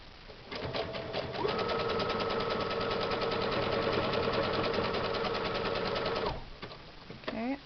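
A sewing machine stitches boxing wraps in a steady, rapid mechanical whir, running continuously for several seconds at close range before stopping, with a faint voice briefly at the end.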